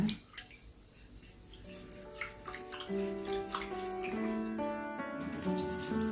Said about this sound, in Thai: เราจะใช้น้ำสะอาดนะคะซาวน้ำออกสักสองครั้งนะคะ